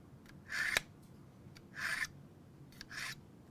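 Knife blade drawn across the fine side of a sharpener, three separate rasping strokes, each lasting about a third of a second, close and fairly quiet with short pauses between them.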